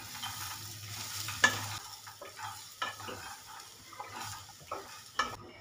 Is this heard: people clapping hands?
no